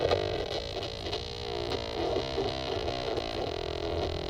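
An electric guitar fuzz tone is played through a Jext Telez wah pedal, giving a thick, distorted, wah-swept sound with a rhythmic pulsing feel that plays on steadily and alone.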